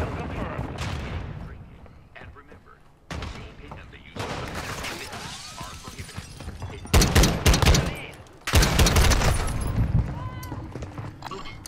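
Marksman rifle shots in a Call of Duty 6v6 match, heard as scattered loud reports, with a denser, louder cluster of shots near the end over game noise, and someone talking throughout.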